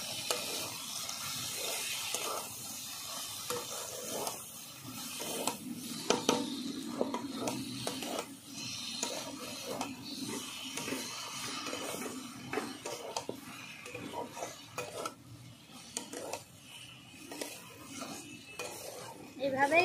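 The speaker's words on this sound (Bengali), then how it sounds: "সর্ষে আর কাঁচা লঙ্কা একসঙ্গে বেটে নিয়েছি, সেটা দিয়ে দেব। ভালো করে কষিয়ে নেব।" A mustard and green chilli paste is sautéed in a pan for a prawn and okra curry. A utensil scrapes and clinks against the pan in repeated strokes over a faint background sizzle.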